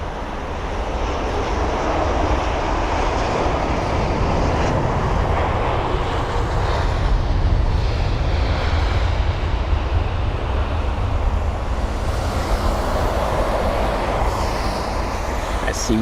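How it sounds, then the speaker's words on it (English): A Turkish Airlines Boeing 777-300ER taxiing at London Heathrow gives a loud, steady jet engine roar and broad rumble that holds throughout, heard from a distance outdoors. "We've got the Turkish Airlines 777-300. That is the ER. That is on its taxi now."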